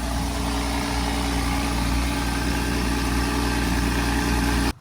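A car engine idles steadily and loud, close by, a continuous low rumble with a faint vibration that holds evenly for several seconds, then cuts off abruptly at the very end; no one speaks.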